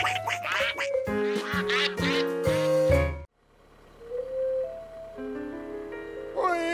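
A run of nasal cartoon duck quacks at a pond in quick succession, then a brief pause before softer quacking resumes.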